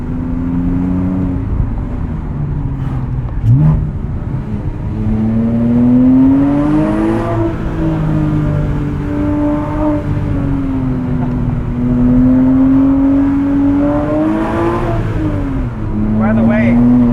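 A 2006 Porsche Cayman S with a six-speed manual and lowering springs drives along, its engine humming steadily and rising in pitch as it accelerates, with people talking over it throughout.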